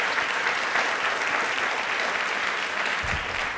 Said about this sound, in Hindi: पहले एक बार अपने लिए तालियां बजा दीजिए